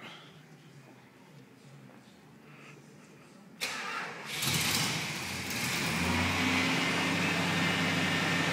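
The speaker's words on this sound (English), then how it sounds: "Start the car up." An engine cranks and catches partway through, then settles into a steady idle hum, after a quieter stretch of background noise.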